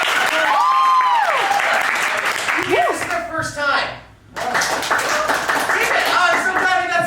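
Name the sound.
theatre audience applause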